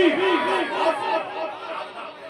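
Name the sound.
crowd responding to Takbir slogan call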